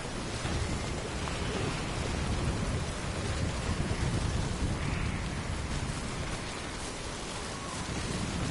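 A wind and rain storm in the Death Stranding video game gives a dense, unbroken roar of pouring rain and gusting wind that stays loud and steady throughout, with no voices.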